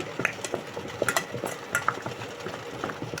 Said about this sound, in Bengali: এবারে আমি সব কিছু একসাথে মিক্স করে নেব